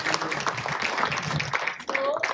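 Conference audience applause, a dense wash of many hands clapping steadily and fairly loudly for the whole moment, with a voice briefly heard near the end.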